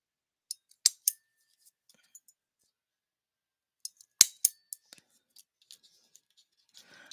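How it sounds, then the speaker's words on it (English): Scissors fussy cutting paper for a flip book, crisp close snips coming in short clusters separated by quiet pauses, a few louder chops among lighter ticks. "The fussy cutting hour."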